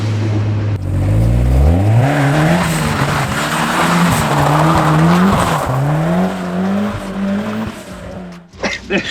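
A 340 bhp rear-wheel-drive Cosworth-powered Mk3 Ford Fiesta race car engine roars close by, revving up and down through gears, with tires squealing and skidding over the loud engine noise.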